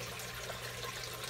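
Water poured from an aquaponics fish tank into a bucket, a steady, close wash of splashing liquid with no voices.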